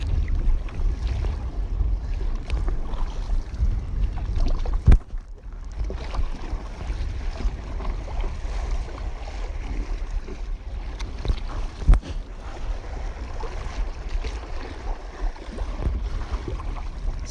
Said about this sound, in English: I get into a zone doing this kind of paddling, especially in bigger, steeper seas